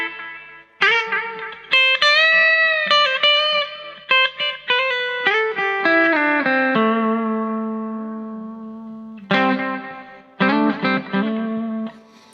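Electric guitar notes and chords ring out with softened echo repeats trailing behind each phrase, a sustained tone fading before two louder strummed bursts.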